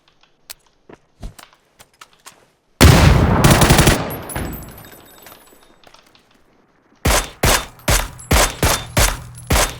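Gunfire in the video game PUBG: a few soft scattered clicks, then a loud dense burst of shots that tails off, followed by a string of sharp, evenly spaced gunshots close up.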